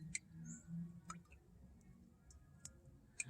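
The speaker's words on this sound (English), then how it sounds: "I have the water running out of the buckets." Water dripping out of buckets outdoors in the desert early in the morning, with sparse, irregular, faint drips and ticks against a quiet low hum, close by and gentle.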